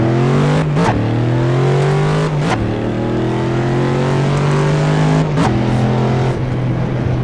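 Ford Mustang V8 in the Assetto Corsa racing game, a loud continuous engine drone with steady rising pitch broken by several sharp gear-shift drops, no talking.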